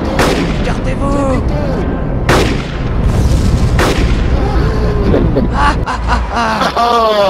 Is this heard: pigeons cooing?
no